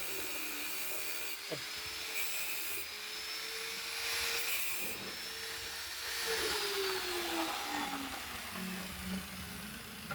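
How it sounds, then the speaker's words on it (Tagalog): An angle grinder runs in a welding fabrication shop, a steady close motor whine that slides up and down in pitch as the load changes, with faint shop noise beneath and no clear talk. "Ganun talaga sila magtapat pa baliktad yung grinder."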